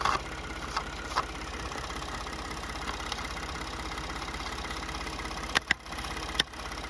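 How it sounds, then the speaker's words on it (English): A rebuilt 2014 Ford F-150 EcoBoost engine idles steadily at close range with an even, low mechanical hum and a couple of faint clicks, with no talking. "The truck starts, it runs, it idles, it's just great"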